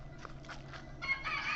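Columbian bantam chickens cluck and call nearby on a farm in short bursts, with a brief louder crow-like call toward the end.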